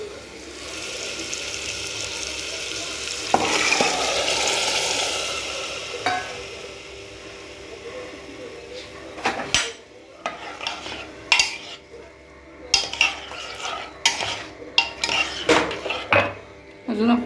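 Shelled, washed pavta (flat bean) pods tipped into a hot turmeric tempering in a pot and stirred, giving a soft sizzle with scraping and clinking of a spoon against metal, sharper knocks coming more often toward the end.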